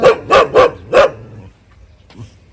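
Four sharp, loud dog barks come in quick succession in the first second, followed by near-silence with faint background shuffles.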